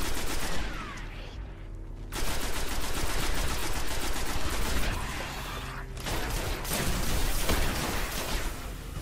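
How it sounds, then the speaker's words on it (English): Bursts of rapid gunfire from the video game Destiny crackle loudly and continuously, with brief lulls between volleys, sounding like an intense firefight. "it still sounded like gunshots were going off"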